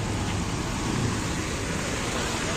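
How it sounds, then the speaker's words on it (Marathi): Heavy rain falls steadily during flooding in Chiplun, Konkan, a dense, constant broadband hiss with a low rumble underneath and no breaks, loud and close throughout. "जोरदार पाउस"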